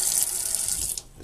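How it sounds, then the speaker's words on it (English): Warm water runs from a kitchen tap for bun dough, a loud, steady hiss and splash nearby that cuts off abruptly near the end. "Put a little bit of warm water."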